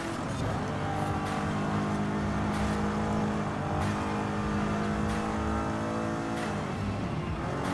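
A 2022 BMW M5 CS driven hard in Forza Horizon 5, its engine droning loud and continuous as it climbs and drops through revs, with brief sharp shifts or tire bursts punctuating the steady roar.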